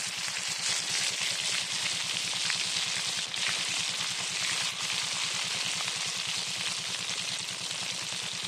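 A whole chicken sizzles in hot oil in an open field, a dense, continuous crackling fry that stays loud and steady throughout, with no talk over it.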